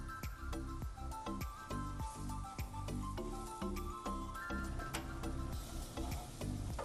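Mango pieces frying in cold-pressed peanut oil give a soft, steady sizzle, with a utensil stirring and tapping against the pan in a quick irregular rhythm, faint and close.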